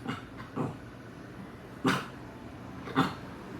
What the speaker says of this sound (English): He's barking at me because he wants me to rub his belly.